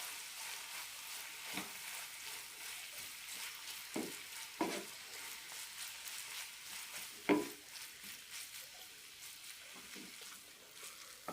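Wheat noodles being stirred with kasuri methi in a pan give a steady soft sizzle, with a few brief louder scrapes and taps of the spoon against the pan.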